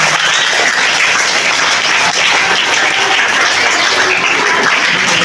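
An audience applauds loudly and continuously at a chess and gaming centre inauguration, dense clapping welcoming a police officer, filling the whole stretch with no voices.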